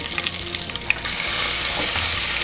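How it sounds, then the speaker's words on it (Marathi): Asafoetida, curry leaves and garlic tempering in hot oil for a Marathi stem-vegetable and khichdi dish, giving a steady close sizzle and crackle that swells in intensity partway through, with no talking. "तेल तापलेलं आहे आपण आता हिंग टाकू थोडासा बघा छान तेल टाकू कढीपत्ता लसूण"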